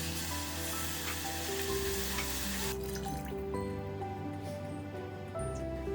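Flour sizzles as it fries in a pot for a mushroom soup, then vegetable stock is poured in. A steady, close hiss is followed by a softer, quieter stretch as the liquid goes in.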